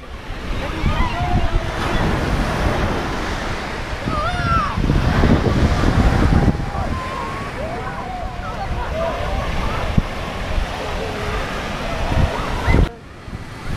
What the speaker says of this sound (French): Il y a du vent, alors je sais pas si